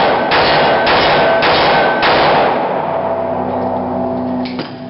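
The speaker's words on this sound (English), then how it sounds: "If I can do a semi-rapid fire on that right torso." Semi-rapid shots from a Smith & Wesson .38 Military and Police Model 10 revolver: four loud, heavy reports at an even pace, then a fifth after a longer pause, all close and very loud.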